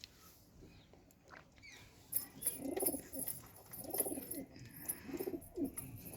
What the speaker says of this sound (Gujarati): જો બાકી બધા કબૂતર